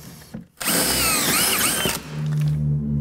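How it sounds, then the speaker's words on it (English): An electric drill fitted with a boring bit for floor renovation spins up loudly and bores through wood in a sustained whining grind for over a second, then winds down to a lower hum. "You'll see that this drills through a lot faster."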